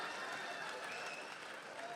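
An audience applauding at a comedy mushaira in Dubai, a steady wash of crowd clapping that continues throughout with a faint voice mixed in.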